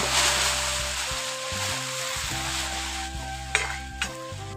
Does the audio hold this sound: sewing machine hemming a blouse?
no